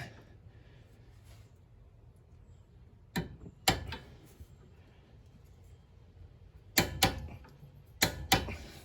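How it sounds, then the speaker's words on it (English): An Icon 1/2 inch torque wrench ratchets while tightening sway bar end links on a 2012 Hyundai, sharp clicks in short bursts of two or three, close and crisp against a quiet background. "I'm using my Icon 1/2 inch torque wrench."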